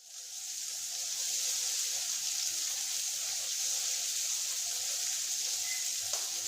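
Mushrooms frying in garlic butter in a pan give off a steady, soft, close sizzle that holds evenly throughout, with no talking.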